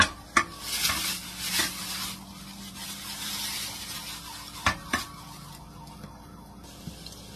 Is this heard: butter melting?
yes